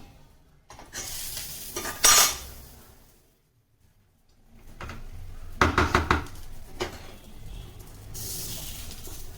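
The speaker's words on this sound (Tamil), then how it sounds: "இப்போ இதுல சொட சொடன்னு சத்தம் கேட்குது" Pearl millet flour batter crackles and sizzles in a covered pan, with clatters of a lid or utensil and a brief quiet pause midway.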